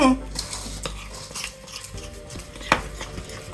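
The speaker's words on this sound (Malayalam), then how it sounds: "അപ്പോൾ അത് നമുക്കെല്ലാം കൂടെ മിക്സ് ചെയ്യാം." A spoon stirs brinjal fry with coconut oil, salt and masala in a pan, giving close scraping and clinking strokes with a louder knock near the end and faint background noise.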